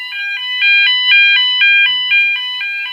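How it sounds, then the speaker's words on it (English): A fire alarm sounds during a test, a loud, close electronic tone pulsing on and off in a steady, even rhythm with no voices. "fire alarm test"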